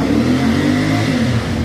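A 2024 CF Moto 450 MT motorcycle engine held at steady revs around 4,000 RPM, loud and close with a continuous droning hum.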